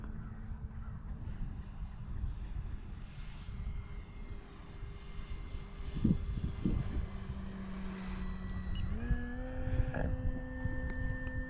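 An E-flite Carbon-Z Cessna 150T 2.1m RC airplane flies in gusty wind, its steady motor drone humming throughout and rising in pitch and loudness near the end, with no talking.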